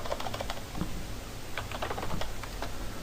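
Code being typed on a computer keyboard, with soft, quick key clicks in short, irregular bursts against a quiet room hum and no one speaking.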